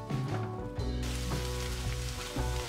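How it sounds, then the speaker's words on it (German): Diced onions, mushrooms and peppers sizzle in hot oil in a pan, a continuous close frying crackle with a stirring clatter partway through, fairly quiet and with no talk. "Hälfte der Zwiebelwürfel in heißem Öl kurz glasig anschwitzen, die Champignons dazugeben und dann die Paprika."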